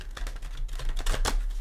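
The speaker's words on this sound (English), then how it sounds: "I just like to give it a shuffle with you here." A tarot card deck being shuffled by hand, a quick run of crisp papery riffles and taps close up, alone without talk.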